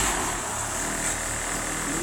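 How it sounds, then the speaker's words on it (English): A Rover 1400 car engine running on a cold, damp day: a steady, even rumble and hum that holds at a constant level for the whole stretch, fairly close and with no talking. "So that's the engine running."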